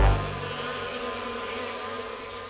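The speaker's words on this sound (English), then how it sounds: "The bees are buzzing!" A steady droning buzz from a swarm of cartoon bees, continuous and fairly loud, with a low hum underneath throughout and no speech.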